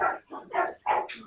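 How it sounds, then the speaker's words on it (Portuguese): A dog barks in an excited run of four or five loud, close barks, the last one higher and yelping, with no talk over it. "vou chamar meu cachorro para participar também, que ele tá aqui empolgado"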